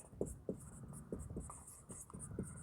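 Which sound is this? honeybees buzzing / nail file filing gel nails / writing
writing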